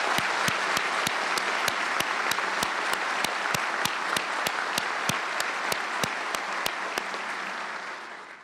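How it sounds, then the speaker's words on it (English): A large audience at an NYPD swearing-in ceremony applauds the 106 new officers, dense sustained clapping that fades slightly at the end, with sharp regular clicks punctuating it throughout. "I want us all to applaud those 106 good men and women."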